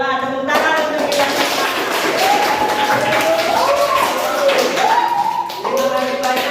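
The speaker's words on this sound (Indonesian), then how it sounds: "tepuk tangan untuk kita" Children in a classroom clap their hands in a dense, steady patter that runs beneath loud voices speaking and chanting together.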